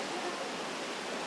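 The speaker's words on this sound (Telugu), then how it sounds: "ఇవే వాటర్ ఫాల్స్." Rushing water at the foot of the Kothapalli waterfalls near Lambasingi, a dense, steady roar of falling water with no break or voices.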